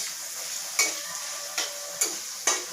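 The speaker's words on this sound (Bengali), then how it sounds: "একটু হলুদ দিয়ে একটুখানি আমরা জোর আঁচ করে আলুটা ভাজবো" Potatoes fry on high heat with turmeric in a pan, giving a soft, steady sizzle broken by four evenly spaced spatula stirs and scrapes.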